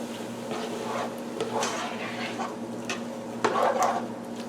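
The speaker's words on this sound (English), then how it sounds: "So I'm going to dump these in and use that sauce to deglaze the pan." Sauce deglazes a pot of sloppy joes with a soft sizzle and wet squishing as a spoon stirs and scrapes the bottom, and a louder splash of bubbling comes near the end.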